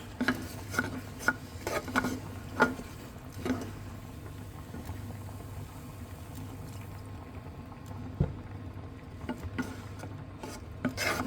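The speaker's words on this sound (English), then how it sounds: "we're just going to add our milk bit by bit, give it a good stir, give it a good mix up" Milk being stirred into a creamy chicken and bacon tagliatelle sauce in a pan, a soft steady scraping and swishing with a few sharper knocks of the utensil, close and continuous with no voices.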